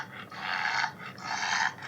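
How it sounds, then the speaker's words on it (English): A bulldog labouring to breathe, two long strained, wheezy snorting breaths close by, each lasting most of a second with a short pause between them. "here is a clip of a bulldog trying to breathe"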